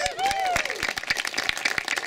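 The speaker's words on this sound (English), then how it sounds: "let's give a warm applause for our incredible hosts here at A to Z Wineworks" An audience at a business gathering at a winery applauds, with scattered sharp claps from a small group and a voice talking over the start.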